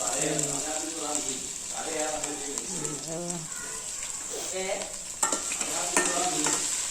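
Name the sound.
stirring stingray fish curry masala in a pan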